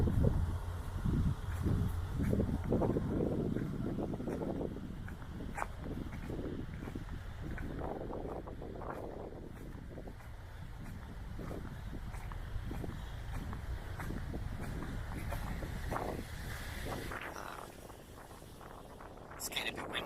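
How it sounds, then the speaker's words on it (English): Steady wind buffets the microphone with low rumbling gusts, broken by thumps and scuffing footsteps, continuing for a long stretch. "It's getting a bit windy now, isn't it?"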